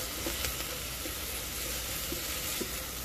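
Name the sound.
Nepali fish curry sizzling while being stirred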